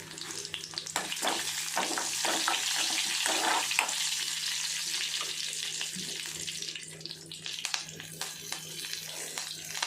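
Garlic cloves crushed with the skin on hit hot oil for a Tamil snake-gourd kootu, giving a steady, close sizzle and crackle with faint stirring clinks throughout, alone without talk.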